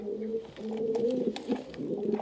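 A pair of black European toy Lahori pigeons coo in low, throaty rolling phrases, close and steady, repeating without pause through the moment with no voices.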